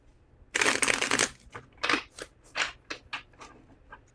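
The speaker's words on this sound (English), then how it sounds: "Two more shuffles." Tarot cards shuffled by hand at close range: one long dense riffle, then a run of shorter crisp card flicks and taps, with no talking.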